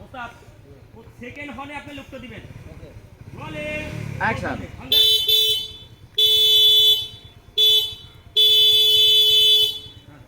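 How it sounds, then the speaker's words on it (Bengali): A loud car horn honks in four sustained blasts of varying length near the end, following a stretch of people talking over background noise on a film shoot. "যখন লুক ব্যাক করবে তখন তুই আবার হর্ন দিবি"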